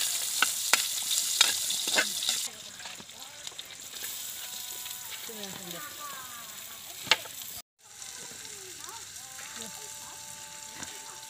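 Meat sautéing with garlic in a pan at a riverside outdoor cookout gives a steady sizzle with stirring scrapes, while birds chirp and other outdoor sounds carry in the background.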